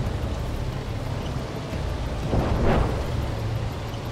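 A deep, rumbling artillery explosion booms once in the Gunner HEAT PC tank game, swelling out of a steady low engine-like drone before fading back down.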